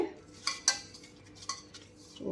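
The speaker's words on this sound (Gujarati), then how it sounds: "અને મોણને સારી રીતે લોટમાં આપણે મિક્સ કરી દેવાનું છે" A spoon works oil into wheat flour in a bowl for paratha dough, with a few light clinks and scrapes against the bowl over a quiet background and no talking.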